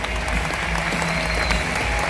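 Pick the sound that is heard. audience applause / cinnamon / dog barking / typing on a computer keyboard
audience applause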